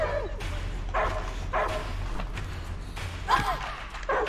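A dog in the video game Die Young barks repeatedly at a fairly even pace, with a few yips and whimpers mixed in over a low steady drone.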